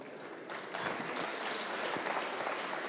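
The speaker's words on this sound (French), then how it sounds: "Je propose qu'on vous applaudisse." An audience applauds a speaker at a conference on the transition to a smart, secure and resilient electric grid. Dense, steady clapping runs for nearly three seconds, fairly soft and distant, swelling slightly after the first half-second, with no voices.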